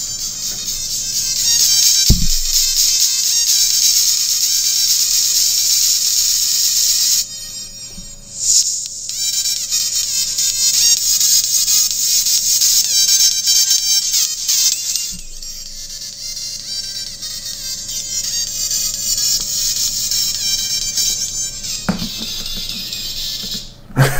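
A thin, tinny tune plays from the small speaker of a Nokia 108 phone, faint and buzzy, repeating in sections with short breaks and a couple of handling clicks.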